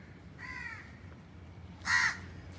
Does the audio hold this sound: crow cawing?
yes